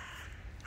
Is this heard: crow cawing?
yes